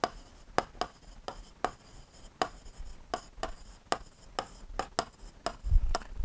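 A pen scratches and taps on paper in quick, irregular strokes during a class six geometry lesson. The sound is faint and close, with no speech.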